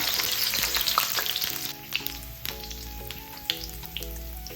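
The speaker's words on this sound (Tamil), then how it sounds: "இதை சேர்த்துக்கிறேன் எண்ணெயில்" Chopped ginger dropped into hot groundnut oil for a Burmese coriander and baby fish curry crackles and sizzles close by, with sharp spatters, a few utensil taps and a low hum underneath.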